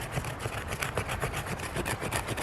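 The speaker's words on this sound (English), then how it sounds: "the Kansbol does have a very sharp 90-degree spine, and that's going to allow you to" A sharp 90-degree spine of a Mora Kansbol knife scraping wood into fine tinder, heard as rapid, rhythmic rasping strokes, close and continuous, with no voices.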